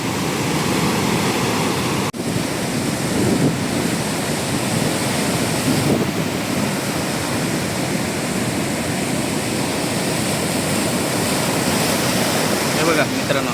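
Sea waves at Ganpatipule beach surging up toward the shore, a loud, continuous broadband roar of surf with no pauses, close and filling the whole scene.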